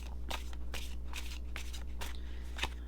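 Oracle cards being shuffled by hand in a series of quick, crisp riffling bursts, about six in a row, close and clear with a steady low hum beneath and no talk.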